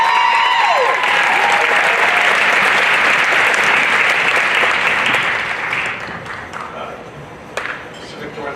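Loud, sustained applause from a large crowd at a Pacific NW Hospice Foundation event, thinning out and tapering off toward the end.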